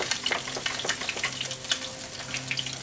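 Oil heating in a pan before searing steaks for a mushroom sauce dish: a steady, close crackling sizzle with rapid little pops throughout.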